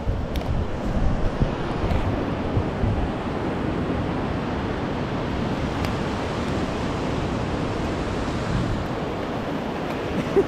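Ocean waves on a beach, a continuous low rumbling surf with gentle swells and some wind buffeting the microphone, steady and fairly loud with no voices.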